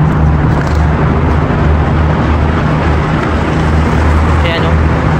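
Traffic on an icy road in Greenland, a steady low rumble of passing vehicles running loud and continuous throughout, close by, with wind-like noise over it.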